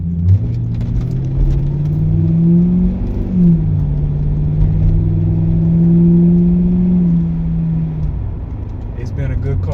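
A 24-year-old Crown Victoria LX pulls away on the road, its engine droning steadily with a low pitch that rises and dips as it accelerates, close and loud, while someone talks over it.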